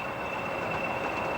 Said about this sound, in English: This pair approached Ratcliffe Power Station with a loaded train.